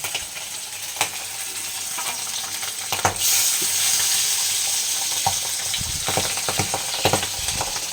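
Pabda fish fry in hot oil in a home kitchen, giving a steady close-up sizzle broken by sharp spattering pops and crackles that grow louder and more frequent partway through.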